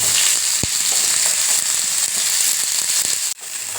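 Steady, loud sizzling of small onions frying in hot oil, a dense crackling hiss throughout with a brief sharp knock near the end.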